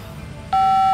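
A telephone call tone signalling an inactive number: after a quiet, faint hiss, a loud steady electronic beep starts abruptly and holds at an even pitch.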